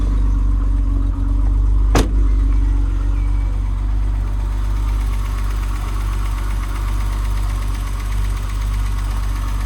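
A BMW 635csi E24 with the 3.5 litre M30 engine runs at idle, a loud, steady low rumble close by with a brief sharp click early on.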